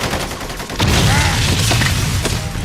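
Dense movie gunfire from a full-on gun battle scene in an action film, a loud sustained fusillade of overlapping shots and booms that rolls on without pause.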